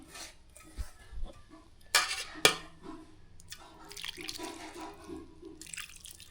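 Water poured into a bowl of pumpkin pakoda batter, with clinks of a utensil against a metal vessel, a couple of sharp knocks and soft trickling and stirring nearby.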